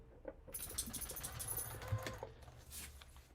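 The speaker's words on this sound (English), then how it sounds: "let's go to the sewing machine." A sewing machine stitches fabric for paper piecing in a rapid mechanical whir with light clicking, fairly faint and brief, with no voice over it.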